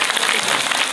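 Loud, dense crowd applause fills a gathering of a tribal community, a continuous wash of many hands clapping close by with no pauses.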